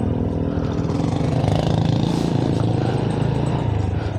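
A Honda Blade 110cc manual-clutch motorcycle engine runs close and steady, a loud, even mid-pitched putter with a slight rise in revs midway and no talk over it.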